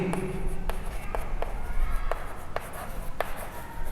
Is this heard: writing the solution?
yes